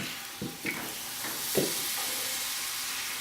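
Sweet potato bread sizzles in a hot pan, a steady bright frying hiss with a few soft stirring or shifting clicks early on, close and alone without talk.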